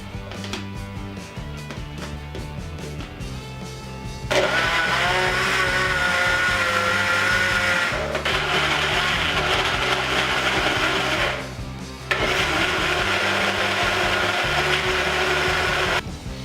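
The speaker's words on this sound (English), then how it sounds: "Put them into a blender. Grind it until it becomes an apple juice." A blender grinds apples with a little water, whirring loudly and steadily, a low motor hum beneath a bright grinding roar that cuts out briefly twice before starting again.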